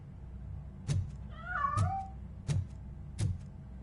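A cat meows once, a clear rising and falling call, while it escapes from hiding inside a piano; soft knocks and thumps sound around it in a quiet room.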